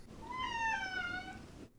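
A cat gives a single drawn-out meow with a clear rising and falling pitch, close and distinct against a quiet indoor background.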